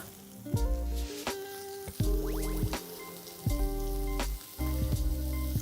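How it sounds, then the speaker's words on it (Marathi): Garlic, ginger, green chili and onion sauté in hot oil in a pan, sizzling in loud bursts that come and go over background music. "आलं आणि लसूण आपल्याला परतून घ्यायचंय आहे मिरची घालूया आता कांदा घालून घेऊया"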